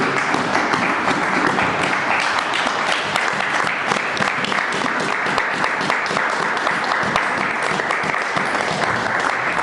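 A church congregation bursts into sustained applause after a Bible reading, a dense, loud and continuous clapping from many hands that fills the room evenly from start to finish.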